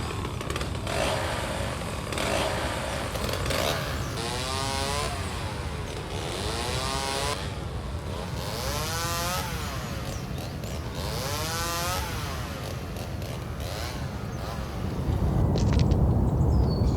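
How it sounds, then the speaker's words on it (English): A chainsaw sound effect loops steadily, the two-stroke engine revving up and down in repeated surges over a constant drone, loud and close throughout with no talk. "Chainsaws. I've used chainsaws in this ad here."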